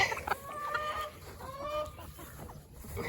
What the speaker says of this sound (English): these chickens take care of it